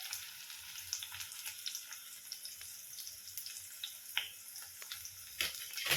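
Onion sizzling in hot oil with cumin in a pan for a sweet corn bhaji, a steady faint frying hiss with small crackles and a few louder spits near the end, no talk.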